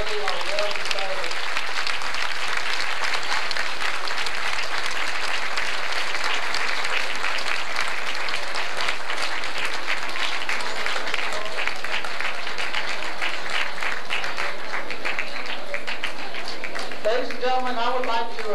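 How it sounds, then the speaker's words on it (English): An audience applauds contestants with sustained, dense clapping that holds steady and loud for the whole stretch, then tapers off at the end. "Let's give them a big round of applause."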